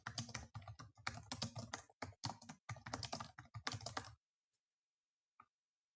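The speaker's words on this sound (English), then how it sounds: "you can type inside this field" Rapid typing on a computer keyboard, a dense run of close, crisp key clicks for about four seconds, then silence broken by two isolated faint taps.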